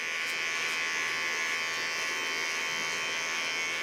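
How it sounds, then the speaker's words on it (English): A Keone electric hair clipper cleaning up a neckline during a haircut gives a continuous, close, steady high-pitched buzzing hum that holds at an even level throughout, with no talk over it. "Take a Keone clipper."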